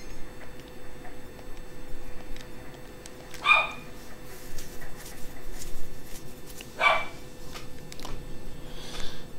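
A dog in Persona 4 barks in two short, clear yips a few seconds apart over a low, steady rain-like background hiss.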